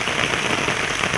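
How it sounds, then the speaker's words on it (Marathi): Heavy rain pours down steadily on a muddy, waterlogged open spot, a dense, even hiss of drops close by with no gaps and no voices. "एवढा पाऊस पडतोय"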